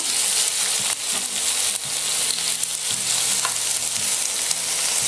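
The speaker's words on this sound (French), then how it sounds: "vous laissez saisir vos oignons" Onions searing in a hot, large frying pan give off a loud, steady sizzle and crackle, with occasional scraping knocks as they are stirred and spread, and no voices.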